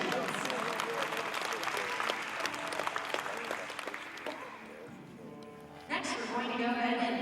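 Audience at the All-American Dairy Show applauds a champion Red and White fall calf, sustained clapping in a large show ring that thins out, then briefly swells again near the end.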